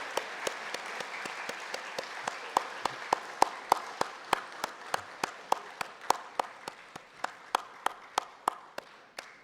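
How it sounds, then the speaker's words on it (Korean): Church congregation clapping for two children at a Sunday service, a steady run of sharp, evenly spaced hand claps that sound like a smaller group, continuing for several seconds and thinning out toward the end. "여러분들이 뜨거운 박수로 잘했다고 칭찬하고 격려해 주시면 감사하겠습니다."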